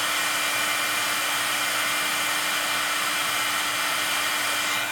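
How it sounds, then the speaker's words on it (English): A craft heat tool blows hot air with a constant, loud whooshing hiss and a steady motor whine, unbroken throughout with no talking. "So I'm going to get my heat tool nice and hot before I put it on there."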